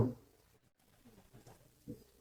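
Soft, low pigeon coos from pigeons kept with chicks, a few murmuring calls spaced apart over quiet background, with no voices.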